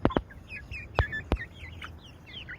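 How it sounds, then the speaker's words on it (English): Chickens on a windy day in Pennsylvania give short clucks and chirpy calls, with a few sharp louder bursts early on and softer scattered calls continuing nearby over breezy background noise. "here's some chickens."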